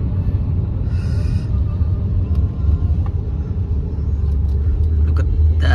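A big bike motorcycle rides along an open road, its engine rumbling loud and continuous with wind noise and a few brief higher sounds on top.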